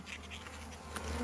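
A swarm of bees buzzes steadily and close at hand while being gathered into a hive box fitted with plastic frames, a dense continuous drone with no voices.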